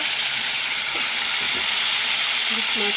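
Hilsa fish curry sizzles steadily in a pan with a black cumin tempering, a loud constant hiss with faint voices murmuring underneath.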